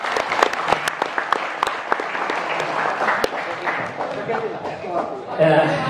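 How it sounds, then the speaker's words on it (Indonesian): Applause from an audience at an Indonesian PSHT martial arts gathering, steady clapping for about five seconds with some crowd chatter mixed in, rising slightly at the end. "Tepuk tangan dari"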